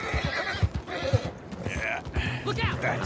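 A tired horse in Red Dead Redemption II lets out a clear whinny and snorts while its hooves clop along, heard under a voice speaking.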